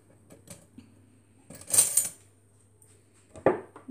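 Lemon and milk mixture being stirred in a bowl for a homemade skin remedy, heard as a few scattered clinks and scrapes of a utensil against the bowl, with a louder clattering burst in the middle and another near the end.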